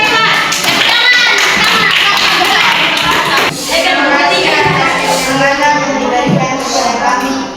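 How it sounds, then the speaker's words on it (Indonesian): Classmates clap for a group about to present in a religion class, lively, uneven clapping that runs throughout, with children's voices chattering and calling out over it. "Tepuk tangan untuk kelompok 4."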